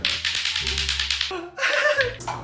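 Rapid clacking from two hard lato-lato clacker balls knocking together in a fast steady rhythm. Background sounds shift partway through.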